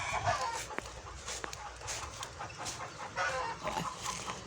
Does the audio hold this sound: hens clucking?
yes